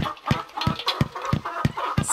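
Chicken clucks from a farmyard in the video game Earthworm Jim 3D, a run of about six short, evenly spaced clucks over a steady background of game ambience.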